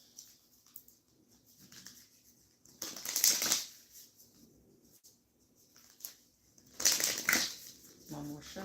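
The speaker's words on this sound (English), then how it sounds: "One more shuffle." Two brief bursts of tarot cards being shuffled, crisp riffling rustles a few seconds apart amid quiet room noise.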